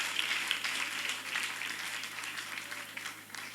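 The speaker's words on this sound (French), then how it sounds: "Les amis, est-ce qu'on peut applaudir pour Junior Mungungu?" Audience applause at a gospel singing competition, continuous crowd clapping of moderate loudness that fades slightly toward the end.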